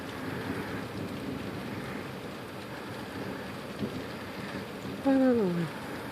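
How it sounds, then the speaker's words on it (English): Light rain falls as a steady soft hiss during a July lightning storm in Oshawa, with a brief falling tone near the end. "Still barely raining."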